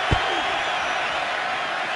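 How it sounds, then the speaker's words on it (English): A dense stadium crowd roars and cheers steadily at a 2011 Detroit Lions home football game against the Panthers, a broad sustained wash of noise with a brief thump near the start and no clear pauses. "This crowd certainly has been revved up with the Lions coming back in this game."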